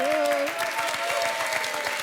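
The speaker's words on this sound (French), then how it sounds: "On vous applaudit." A TV-show studio audience applauds steadily and evenly throughout, with a host's voice briefly heard over the start of the clapping.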